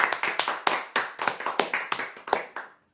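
A small crowd applauds a lucky draw winner at a prize event, with close, uneven bursts of hand claps rising and falling over about two and a half seconds before stopping.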